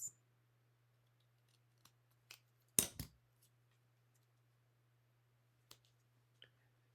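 Scissors cutting a paper Merry Christmas ephemera piece, a few sharp close snips spaced across a quiet stretch with one louder double cut in the middle, no talk.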